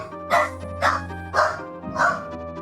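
A dog in Final Fantasy V barks four times at an even, spaced rhythm, each bark short and bright, over a steady held musical tone.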